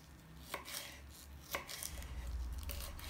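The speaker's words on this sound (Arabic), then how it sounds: "نقطع الفليفلة بهالشكل" A knife chops bell peppers on a cutting board, with a few sharp distinct thuds about a second apart, close and clear, over a low background rumble with no talking.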